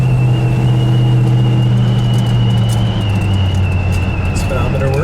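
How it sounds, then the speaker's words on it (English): A 1967 Plymouth Satellite with a 318 V8, in show condition, idles while warming up in freezing weather, a steady low rumble with a faint whine running over it, close and loud under a voice. "Just a 318, but I'll tell you what, show quality under the hood sounds good."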